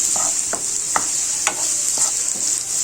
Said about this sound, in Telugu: ఇప్పుడు ఆయిల్ హీట్ అయ్యాక మనము మీడియం సైజ్ది సన్నగా తరుక్కున్న ఉల్లిపాయ ముక్కలు వేసుకోవాలండి. వేసుకొని అంతా ఒకసారి కలుపుకోవాలండి.